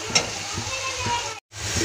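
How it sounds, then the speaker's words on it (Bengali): Spice paste for a spicy red chicken curry sizzles steadily in a hot pan, a close continuous frying hiss broken by soft stirring scrapes and one brief silent gap. "মশলাটা প্রায় ভাজা হয়ে গেছে।"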